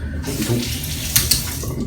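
Warm water runs from a bathroom tap to wet a razor before shaving, a steady close hiss and splash with small clinks as the razor meets the stream.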